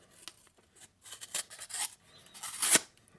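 A Kizer Spitfire knife slices through cardboard in a final cut, making close, dry scraping and tearing rasps in several short strokes that build to a louder pull at the end.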